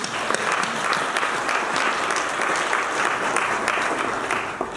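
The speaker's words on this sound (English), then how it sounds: "can we clap for them, all the students?" Steady, dense applause from a crowd of teachers, leaders and parents for students at a school event, continuous and fairly loud throughout with no pause or voices.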